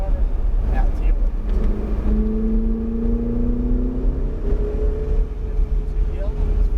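A car accelerates and corners on an extreme driving course, the engine note rising and falling steadily and fairly close, with a rushing background roar.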